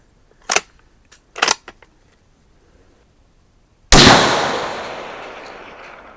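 Shots from a 5.56 bolt-action AR15 with an Aero Precision barrel firing 55 grain ammunition: a few small sharp clicks early on, then one loud, close crack with a long decaying echo.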